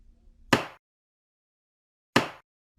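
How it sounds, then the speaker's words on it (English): A hammer strikes twice, two sharp loud bangs about a second and a half apart, separated by silence. "Banging of a hammer."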